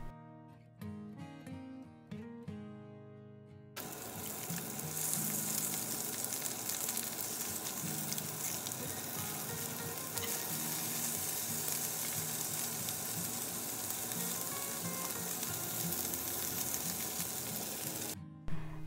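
Sliced food frying in a pan with a little oil, a loud continuous sizzle close up, sustained steadily after a few seconds of quieter clinks at the start, with no talk.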